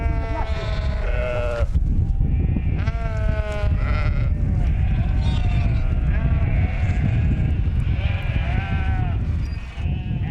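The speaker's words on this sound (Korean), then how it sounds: "한 무리의 양떼가 길을 막는다" A flock of sheep bleats loudly and continuously at close range, many overlapping cries on a road through a desert oasis village, with a steady background hubbub.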